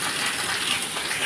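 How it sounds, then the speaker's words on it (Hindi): Heavy monsoon rain pours down in a dense, steady rushing roar of water, loud and continuous with no pauses. "पानी यहाँ बहुत पड़ रहा है, देखिए इतना पानी पड़ रहा है"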